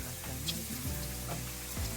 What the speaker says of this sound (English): I started frying the potatoes as you can see in the video.